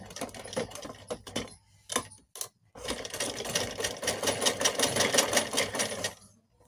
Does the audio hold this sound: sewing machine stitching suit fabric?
yes